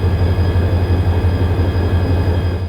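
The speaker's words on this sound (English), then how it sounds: "Today it's pulling the coach train along with BNSF 6976, another ex-Amtrak locomotive." Amtrak 231, an EMD F40PHR diesel locomotive at the Illinois Railway Museum, drones loudly up close while pulling a coach train, a heavy low engine throb with a steady pulsing rumble.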